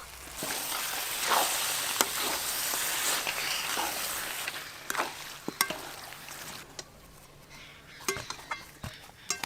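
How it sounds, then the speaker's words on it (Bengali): Chicken going into a sizzling masala gravy for chicken kosha, a loud frying hiss that fades, followed by sharp clinks and scrapes of a metal spoon against the pot. "এবার চিকেন দিয়ে দেব।"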